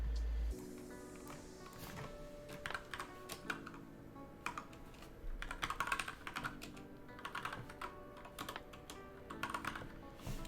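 Typing on a computer keyboard during a livestream, rapid clusters of clicking keystrokes in uneven bursts, close and moderately loud over faint background music, with no talking.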